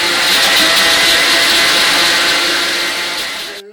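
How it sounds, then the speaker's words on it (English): Kitchen blender whirring through carrots and water for juice, a loud steady high-pitched motor roar that runs continuously and then cuts off abruptly near the end. "so now I'm going to start the blending. So you're going to hear some noise from the machine."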